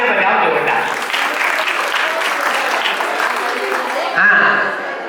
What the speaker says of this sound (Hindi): एक बार इनके लिए तालियां बजाओ जोरदार